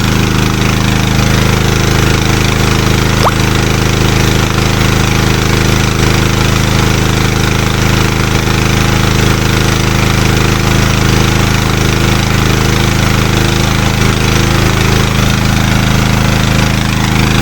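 A Dnipro-M GX-70E generator engine runs on gas after conversion with a dual-fuel carburetor, giving a loud, steady, continuous drone with even low rumble throughout, no pauses and no talking.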